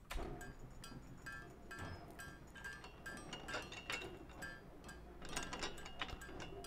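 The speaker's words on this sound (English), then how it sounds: "Then we have some blacksmith sounds." Blacksmith hammering on metal within a medieval town ambience, a steady run of bright metallic clinks and taps against a dense busy background, moderately close and continuous throughout.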